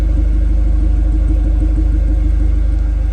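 A VW MK6 GTI with an upgraded exhaust runs at idle, a loud, steady, close low drone with a faint pulsing throb and no voices.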